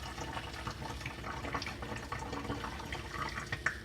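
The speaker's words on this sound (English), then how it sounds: "And pour in some more rubbing alcohol." Rubbing alcohol is poured into a small half-cup measure, giving a faint, continuous trickling and splashing with a few small drips near the end.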